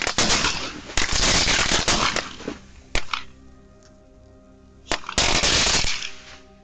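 A box of fireworks set off on grass and shrubbery crackles and bangs in long dense bursts of rapid pops, broken by a few sharp single reports and a brief lull before another loud volley, close and with no voices.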